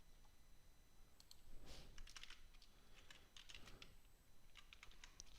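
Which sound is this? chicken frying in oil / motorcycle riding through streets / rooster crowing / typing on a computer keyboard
typing on a computer keyboard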